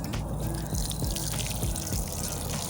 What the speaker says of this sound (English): All I gotta do is water it in,